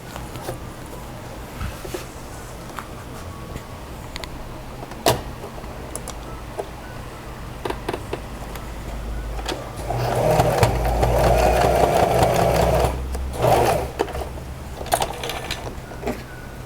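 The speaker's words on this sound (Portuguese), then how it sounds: "vamos passar uma costurinha bem rente aqui na pontinha." Sewing machine running a short stitch line close to the fabric edge, a quiet mechanical whir swelling into a steady, close burst of stitching for a few seconds before stopping amid light handling clicks.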